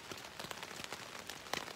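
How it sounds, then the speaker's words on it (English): Steady rain pattering on a tent during a spring backcountry hike at Franconia Notch, New Hampshire, a dense, continuous hiss of close drops with a few sharper taps standing out. "The rain is here."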